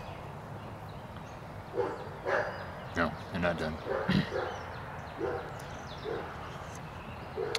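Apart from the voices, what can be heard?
dogs barking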